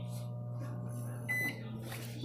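A microwave oven heating frozen Jello runs with a steady, low electrical hum throughout, and a brief higher tone rises over it partway through.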